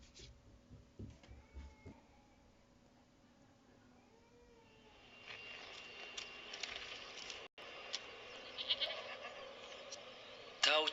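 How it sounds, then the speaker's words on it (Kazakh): A mountain goat (Siberian ibex) bleats several times early on, short wavering cries up front, followed by a busier stretch of clattering and crackling background noise. "Горный козел."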